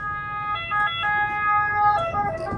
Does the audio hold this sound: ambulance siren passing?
yes